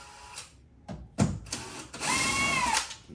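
A power drill fitted with a hex bit removing screws from a 2014 Toyota Highlander during an actuator replacement: several short whirring bursts, the last one longer, close and loud.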